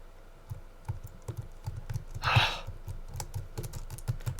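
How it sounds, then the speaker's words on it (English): Computer keyboard typing during a Kerbal Space Program session, rapid key presses tapping in an irregular rhythm, with a louder burst partway through. "Pressing all the keys!"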